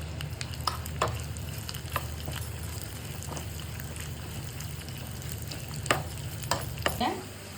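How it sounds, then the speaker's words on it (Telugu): Cashews and raisins roasting in a pan, a steady low frying sizzle with irregular stirring clicks and scrapes throughout, close by with no talk. "నెక్స్ట్ కొంచెం జీడిపప్పు, కొంచెం కిస్మిస్, ఇది కూడా దాంతో పాటు రోస్ట్ అవ్వాలి"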